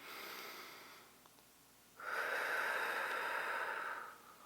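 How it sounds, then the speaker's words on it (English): Deep breathing during a back stretch, a long airy inhale, a short pause, then a stronger, steady exhale lasting about two seconds, close and alone. "taking nice deep breaths in"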